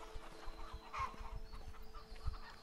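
Soft chicken clucking in the video game A Way Out, a few short low clucks close by over a quiet ambient background.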